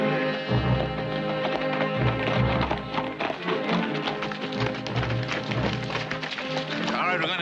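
Horses being ridden on a 1965 television Western, with steady rhythmic hoofbeats running throughout under a music score.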